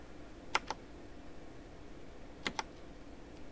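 Clicky computer keyboard in a quiet room, heard as two quick pairs of sharp key clicks about two seconds apart, fairly faint and alone over a low background hum.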